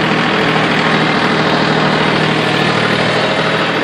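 Close and loud, the John Deere tractor's engine chugs along steadily, hauling a pickup truck that won't run, its even droning rumble holding without pause.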